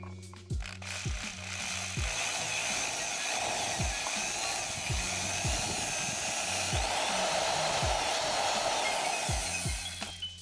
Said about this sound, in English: after that, we'll drill a bigger hole